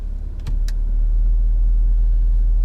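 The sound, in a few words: BMW X7 engine revving in sport mode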